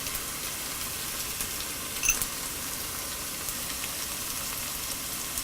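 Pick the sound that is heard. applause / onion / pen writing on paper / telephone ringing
onion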